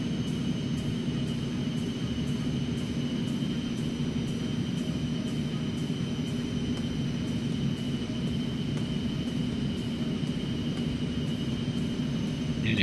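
Eclipse 550 business jet taxiing along a runway in X-Plane 11, a steady low turbine hum and broadband rumble holding constant throughout with a thin high whine above, no voices.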